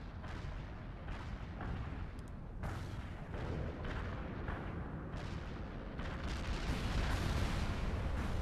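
An artillery fire mission in the video game World in Conflict, with a continuous roar of heavy booming shell impacts and rumbling blasts layered over one another, loud and sustained and growing toward the end, with no talking.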